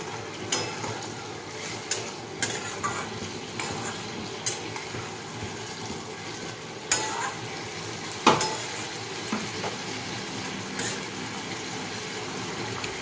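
Fish curry with tamarind simmers in a pan, giving a steady close-up bubbling sizzle, broken by occasional sharp clicks and clinks of utensils against the cookware.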